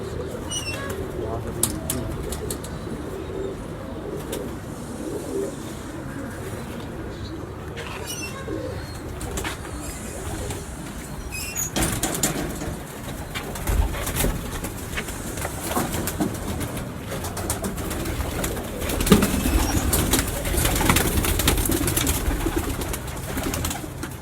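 Pigeons cooing softly and fluttering in a loft, heard under ongoing conversation between men with scattered clatter and rustling.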